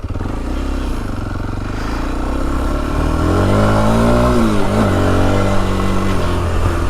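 A Kawasaki KLX 230 dirt bike engine running up close as riding begins, a loud steady drone that rises and shifts in pitch as it revs and accelerates, with no talk.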